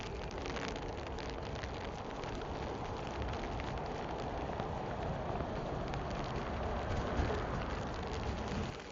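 Steady rain hissing in a dense, continuous wash while cycling along a road near Missoula, Montana, close and fairly loud throughout with no speech.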